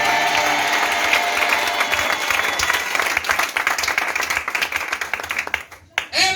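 A church congregation applauds and cheers, a loud sustained roar of clapping and voices that thins and fades near the end before a brief final swell.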